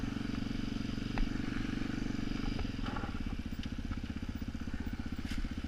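A Yamaha TTR dirt bike passes close by on a trail through the bosque, its steady buzzing engine loud and continuous throughout, with no talk.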